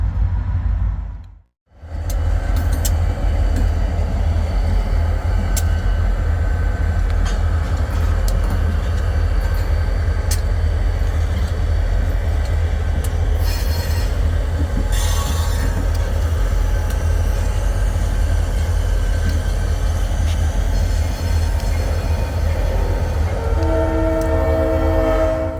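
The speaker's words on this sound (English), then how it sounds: "does an end around with the locomotive to pull him back south" A leased freight locomotive rumbles steadily past with its railcars on Ithaca Central track, a loud continuous roll, while a horn blares briefly near the start and again later amid rattling wagons.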